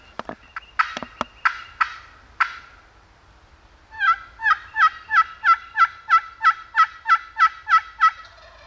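A wild turkey gobbles outdoors in turkey season, a few scattered calls at first followed by a rapid, rhythmic run of about a dozen loud, close gobbles with no talking.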